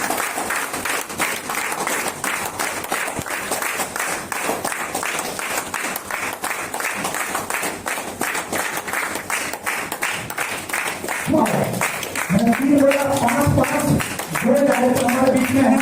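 A business presentation audience claps steadily throughout, with a voice speaking over the applause toward the end.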